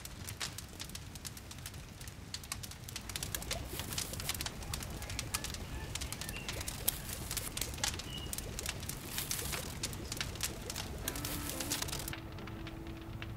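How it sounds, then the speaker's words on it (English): Evening birds call and coo near a campfire that crackles sharply and constantly close by, with the bird notes softer behind it and a low hum near the end. "the sound of the evening birds and the waterfall crashing quietly in the distance"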